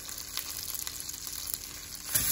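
Pieces of food fry in oil spread across a pan, a soft, low sizzle with small irregular crackles and a slightly louder burst near the end.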